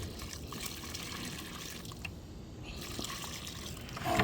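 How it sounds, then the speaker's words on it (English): Water pours onto a freshly planted rosemary in clay soil, a continuous soft splashing and trickling that stays close and fairly quiet from start to finish. "We're going to cover it and then we're going to water it."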